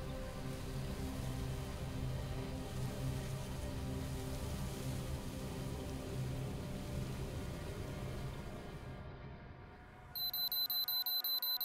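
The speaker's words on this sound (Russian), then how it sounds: "Будильник, вставай." An alarm clock in the video game Metro Exodus rings out near the end as a rapid, shrill electronic beeping, cutting in over a steady low rumble of ambient noise.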